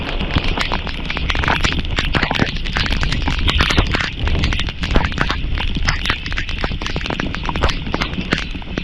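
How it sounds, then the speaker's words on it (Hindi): Very heavy downpour pounding a street, a dense, loud, unbroken roar of rain with sharp spattering impacts throughout, steady from start to finish with no voices. "बहुत तेज बारिश हो रही है।"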